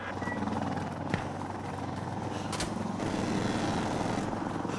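A helicopter in a shooter video game gives off a steady, close rotor drone for the whole stretch, with one sharp click early on and no talk over it.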